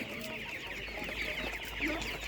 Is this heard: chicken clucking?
yes